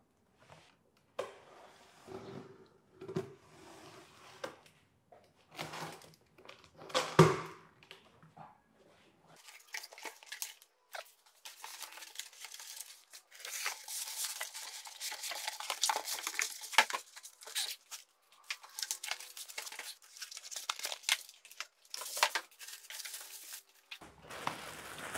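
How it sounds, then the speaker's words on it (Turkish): A plastic bag around a new, very wide ATX PC case is pulled open, giving dense crinkling and rustling bursts that start after some quieter handling noises and continue close up. "Poşetini açalım ve güzelliğini görelim."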